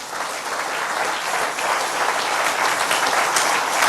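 A church congregation applauds loudly and steadily for several seconds, a dense continuous wash of many hands clapping together, with no voices rising above it.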